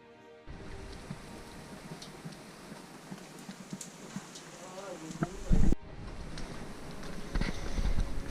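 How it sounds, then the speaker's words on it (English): Light, steady rain falls outdoors as a continuous broadband hiss, with a brief heavier thump partway through and low voices at times beneath it. "this rain will go on for the whole day, and it's not that much of a rain"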